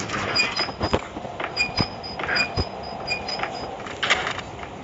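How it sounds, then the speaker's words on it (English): A train arriving in the video game Max Payne, with steady rumbling wheels, repeated clanks and faint high metallic squeals, heard at moderate loudness without talk. "Train terdatang lah."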